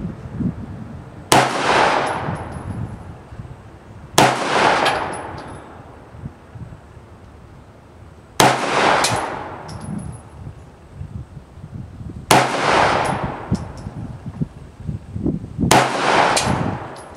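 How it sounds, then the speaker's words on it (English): A TriStar C100 pistol fires five loud, sharp shots spaced a few seconds apart, each followed by a ringing outdoor echo, with no talk. "This is a good shooting gun, guys."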